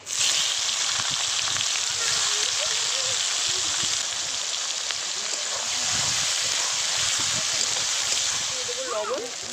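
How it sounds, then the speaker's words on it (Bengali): Chopped onion frying in oil in a pan, a steady loud sizzle with crackling throughout, while a voice talks now and then over it. "এবার দিয়ে দেবো কুচানো পেঁয়াজ"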